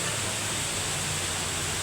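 Hinulugang Taktak waterfall in Antipolo pours with a dense, even roar of broadband rushing water, constant and close, with no break.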